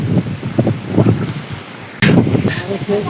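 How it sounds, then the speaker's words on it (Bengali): Strong night wind buffets the microphone outdoors in gusty, uneven bursts, with a loud rumbling thump partway through, while people talk over it. "হাওয়া হচ্ছে দেখতে পাচ্ছ তো গাইস"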